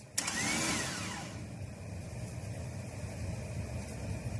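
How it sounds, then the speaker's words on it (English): A car starter motor spins freely without the Bendix engaging the flywheel, giving a sharp click and a short whirring whine that winds down, then a steady low hum. "The starter is spinning, but the Bendix doesn't seem to be kicking up to go into the gears on the flywheel"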